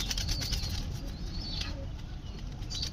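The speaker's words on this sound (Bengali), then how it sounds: "এই বড়টা হচ্ছে পায়রা আর ছোটটা হচ্ছে পায়রি।" Pigeons, a large male and a smaller female, coo softly while wings flap in bursts, the sounds faint and somewhat distant over steady background noise, with no talk.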